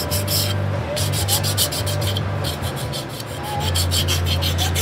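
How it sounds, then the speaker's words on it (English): A metal edge is deburred with a file or abrasive, giving continuous close scraping and rasping strokes in a repeating back-and-forth rhythm over a steady low hum. "Like to deburr that edge, or put a small chamfer on it."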